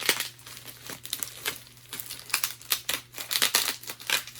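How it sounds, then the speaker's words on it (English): Sticky packaging tape pulled and crinkled while a candle is being packed, a close run of irregular ripping and crackling bursts over a faint steady hum. "it's pretty sticky packaging tape"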